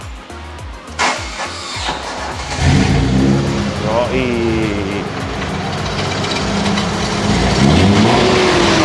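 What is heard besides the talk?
modified Nissan Cefiro engine running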